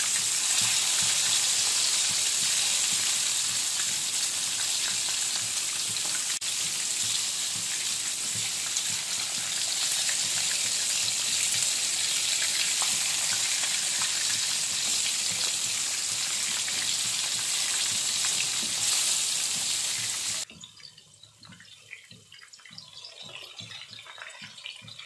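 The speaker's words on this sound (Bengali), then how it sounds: "মাছগুলোকে একটু লাল লাল করে ভেজে নেব।" Fish fry in hot oil with a loud, constant sizzle for most of the time, then the hiss drops abruptly to a quieter bubbling near the end.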